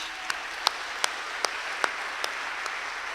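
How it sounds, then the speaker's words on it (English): Audience applause at a political rally, a moderate wash of crowd clapping with a few sharp, evenly spaced claps standing out on top at a steady beat. "I'd like to give you all a round of applause"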